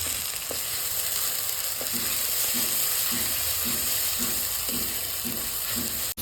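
Onion and garlic paste frying in a pan, a loud continuous sizzle close up with a regular scraping tick of a spatula stirring roughly every half second, no voices.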